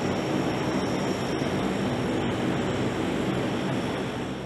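Turboprop engines of a C-130 Hercules roar in a dense, constant broadband drone with a faint high whine riding on top, loud and unbroken throughout.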